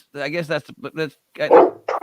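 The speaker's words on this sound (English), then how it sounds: "I got a very big dog that will not stop barking at me." A very big dog barks and yips repeatedly in short, loud bursts close by, with uneven gaps between the barks.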